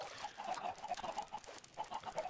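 Chickens in Minecraft cluck in a continuous burst of short, repeated clucks, fairly faint with a faint game background behind them.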